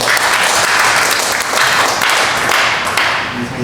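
Audience at a Christian church association's annual general meeting in Gimje breaks into loud, dense clapping that holds steady for a few seconds before easing off.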